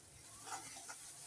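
Sliced onion and crushed garlic frying in hot oil, a steady close sizzle with brief stirring swells, no voices.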